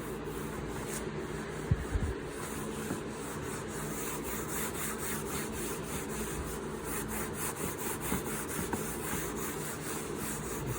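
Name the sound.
rag rubbing gel stain onto wooden cabinet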